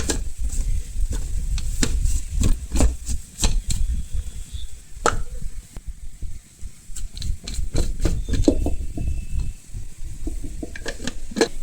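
Fish with chilli and salt is stirred in a pan with very little oil, making repeated scraping and clattering strokes over a soft sizzle, irregular and close by, with no talk.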